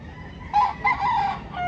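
A fighting rooster (gamecock) crows once, close and loud, its call rising and holding for about a second.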